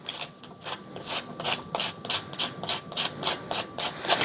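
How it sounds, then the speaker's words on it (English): Medium P150-grit sandpaper rubbed on a PSA Dagger Micro pistol magazine in quick even back-and-forth strokes, about a dozen loud, close rasping passes in a steady rhythm. "And this is that medium grit sandpaper."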